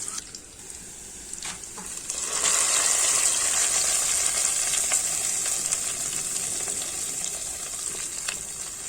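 Dried chillies and curry leaves sizzle as a hot tempering is poured into pumpkin curry, a sudden bright crackling hiss that swells after a couple of seconds and keeps frying steadily, close and loud, with no talk.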